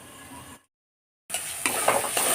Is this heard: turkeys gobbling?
no